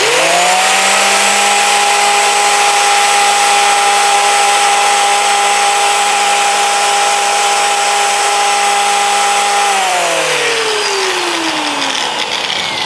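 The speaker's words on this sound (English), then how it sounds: "And now I just simply bring the contour sander." An Arbortech contour sander runs at a steady high whine while pulling adhesive off a rubber sanding pad, loud and close, then winds down near the end.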